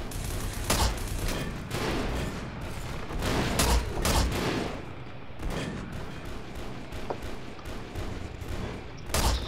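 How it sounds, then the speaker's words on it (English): Heavy, continuous gunfire fills the E.Y.E Divine Cybermancy firefight, with overlapping volleys and sharp loud cracks repeating over a steady roar of shots. "I'm shooting everyone around you."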